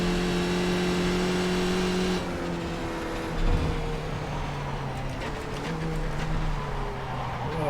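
Skip Barber race car in iRacing at Oran Park, a sustained engine drone that drops in pitch as the car brakes and downshifts into a corner, then builds again under acceleration.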